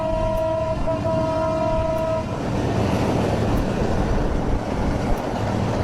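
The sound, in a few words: passing train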